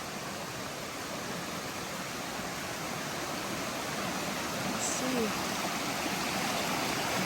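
Steady broadband rush of a stream at a water crossing on a hiking trail, continuous and fairly close, with a brief spoken remark over it.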